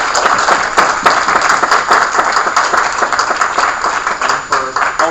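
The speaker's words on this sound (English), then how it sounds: "give the panel something which they deserve much earlier in the evening, which is a round of applause all together" An indoor audience applauds a panel at an evening event, with dense, continuous clapping from many hands that holds steady for about five seconds.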